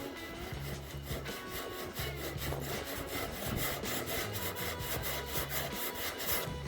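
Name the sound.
hand sanding body filler on a car boot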